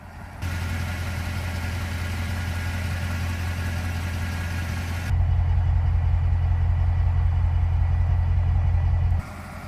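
A Mercedes CL63 AMG with a 6.2 liter engine idles in a steady low rumble, stepping up to a slightly louder, deeper idle partway through before cutting back near the end.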